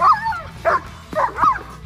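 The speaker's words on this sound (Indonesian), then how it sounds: "tiba-tiba seekor anjing muncul dan mulai menggonggong" A dog barks in short yelping bursts, about four quick, high-pitched barks with brief gaps, close and loud with no voices.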